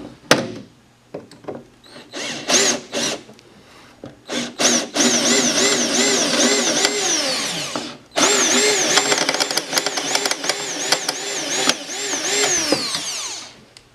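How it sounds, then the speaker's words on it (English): A power drill whines in repeated bursts drilling out rivets on a crashed snowmobile chassis, starting with short stuttering pulses then longer sustained grinding runs through metal, loud and close. "And these guys that I'm drilling out are not the bad ones."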